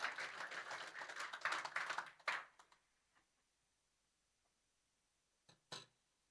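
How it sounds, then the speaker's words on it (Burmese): A church congregation claps together to welcome the sermon, a dense round of applause that stops abruptly after about two seconds, leaving a few stray claps and then near silence. "လက်ခုပ်တီးပြီးတော့ပေါ့နော်ကျမတို့အာရပါရနှုတ်ကပတ်တော်ကိုကြိုဆိုကြရအောင်"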